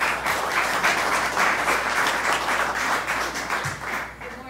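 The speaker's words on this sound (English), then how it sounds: "Please give her a round of applause." Audience applause greets a presenter at a morning talk, a dense steady wash of many hands clapping that holds for several seconds before fading slightly at the end.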